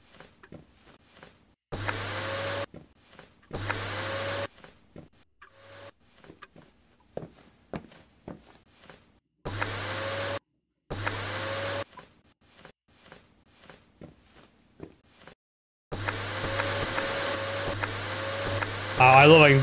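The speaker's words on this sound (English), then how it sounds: "Henry the vacuum." Henry vacuum cleaner running in bursts, switching on and off repeatedly with short loud stretches between quiet gaps and ending in a longer continuous run, with faint movement noises in the pauses.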